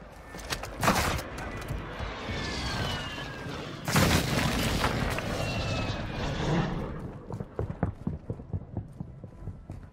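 An artillery strike in the Call of Duty DMZ video game: whistling incoming shells, then two heavy booming blasts close together. Rumbling debris and scattered crackling impacts follow and fade out.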